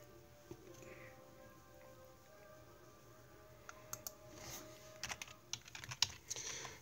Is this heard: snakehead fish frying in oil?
no